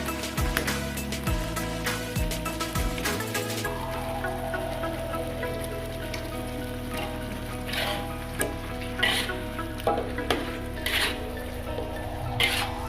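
Chicken pieces sizzle and fry in hot oil in a pan for ayam bakar sambal ijo, a steady dense crackle with scattered pops and clinks of stirring, close and continuous without speech.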